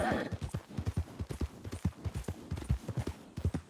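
Hooves clip-clop in a brisk, uneven rhythm as a horse moves in Red Dead, each strike sharp and close, repeating steadily throughout with nothing spoken.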